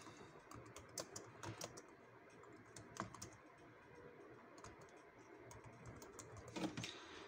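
Typing a chat message on a computer keyboard, with soft, quick, irregular key clicks and a few sharper taps, close but faint against a low background hum and no talking.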